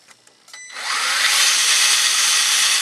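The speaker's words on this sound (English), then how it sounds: "Alright guys, the Integi lathe motor is in there now. We're in first gear." An Integy lathe electric motor runs in a Tamiya Toyota Tundra high-lift RC truck in first gear, starting after a few light clicks and rising into a loud, steady, high-pitched whine that continues close by.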